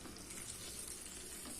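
Water poured into a hot pan for rava upma sizzles and bubbles steadily, a soft continuous crackle without speech.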